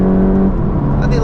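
A Mk8 Volkswagen Golf GTI engine revs loudly and close, its steady pitch dropping partway through as it pulls, while someone talks over it.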